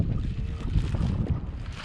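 Strong outdoor wind rushes and buffets against the microphone in continuous, uneven gusts beside a car being taped off for spray-painting primer over rust.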